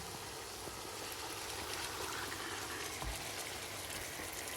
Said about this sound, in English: slide in that marinated chicken